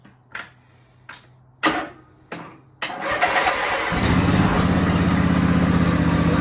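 Lawn tractor engine with the choke on: a few cranking bursts and pauses, then it catches at about three seconds and runs loud and steady, rising to a fuller roar near the end, with no talking.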